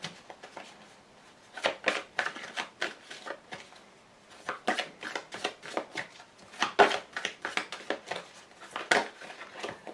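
Lenormand fortune-telling cards being shuffled and drawn by hand, a run of quick papery riffles and flicks in irregular bursts, close and crisp, with quiet gaps between handlings and no speech.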